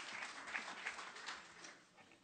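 Audience at a panel discussion on fake news and misinformation gives a brief scattered round of clapping, fairly faint and fading out after about a second and a half.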